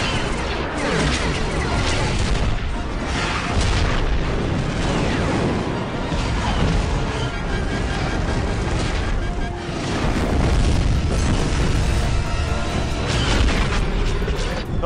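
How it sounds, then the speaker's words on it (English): Heavy flak explosions fill a battle in the animated series Star Wars: The Clone Wars, a dense, continuous roar of overlapping booms and blasts that stays loud throughout. "The flak is too heavy."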